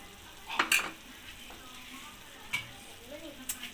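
Potato chunks tumble into simmering chicken afritada in a pot and get stirred, giving a soft sizzle and bubbling with a few louder scraping clatters of the spoon near the start and midway.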